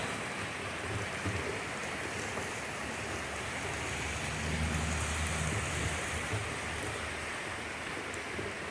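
Steady rain falls during the late-summer rainy season in western North Carolina, a dense, even hiss of drops on surfaces that holds constant throughout with no voices.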